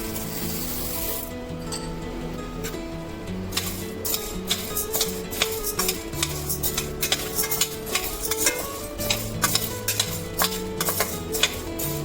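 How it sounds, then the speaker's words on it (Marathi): Dry moong dal scrapes and rattles against a metal kadhai in steady, busy stirring strokes while dry-roasting, with a soft background hiss throughout. "मी कढई टाकून घेतली डाळी भाजून घेते"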